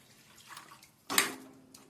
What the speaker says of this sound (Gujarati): તેમાં એક ગ્લાસ પાણી નાખીશું